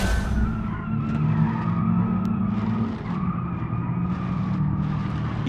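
A truck drifts with heavy handbrake in the BeamNG racing game, its tires skidding in a loud, continuous screech over a steady engine drone for the whole stretch, with no talk.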